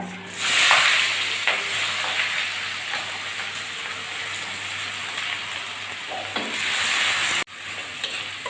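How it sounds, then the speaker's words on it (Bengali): Chopped onion frying in hot oil with cloves and bay leaf, a loud, continuous close-up sizzle that swells briefly near the start and holds steady before cutting off sharply near the end. "এই যে আলু ভাজা তেলের ভিতর লবঙ্গ আর তেজপাতা আমি ফোড়নে দিচ্ছি আর দিয়ে দিচ্ছি কুচানো পেঁয়াজ"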